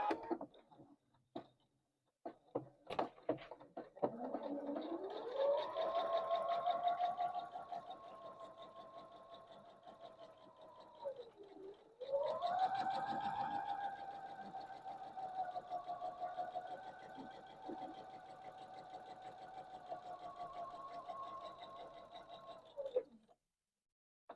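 A sewing machine runs a quarter-inch seam beside a marked line on a quilt block, humming steadily in two long passes with a brief slowdown between them, fairly quiet overall.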